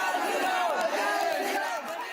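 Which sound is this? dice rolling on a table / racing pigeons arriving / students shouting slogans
students shouting slogans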